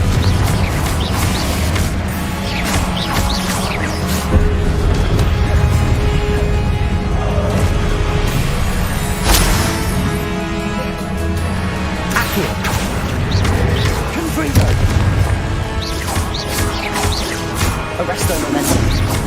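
Confringo fire spells blast during hard-mode combat in Hogwarts Legacy, with loud crashing bursts and whooshes layered over a dense, constant wash of battle noise and music.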